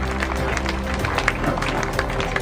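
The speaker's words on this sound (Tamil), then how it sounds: "கைத்தட்டி உற்சாகப்படுத்துமாறு கேட்டுக்கொள்கிறோம்." Applause from an audience at an outdoor award ceremony honoring local winners, a dense continuous patter of many hands clapping steadily for a couple of seconds, fairly loud and close.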